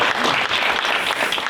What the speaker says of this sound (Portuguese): Então, palmas.